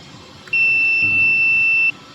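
A rubber conveyor belt vulcanizing press sounds its timer alarm, a single steady electronic beep held for about a second and a half over a low machine hum.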